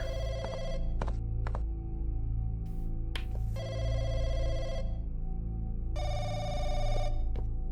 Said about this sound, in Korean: 이건 공화마트의 전화.